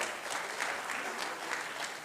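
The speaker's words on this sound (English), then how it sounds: "So clap yourself for it." A conference hall audience at a cardiology event claps steadily in a sustained, even round of applause, heard at a moderate distance with no talk over it.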